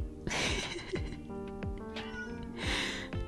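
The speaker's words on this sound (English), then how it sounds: "can you guys hear my cat?" A cat meows repeatedly indoors, several drawn-out, fairly close cries in a row with short pauses between them, with no speech over them.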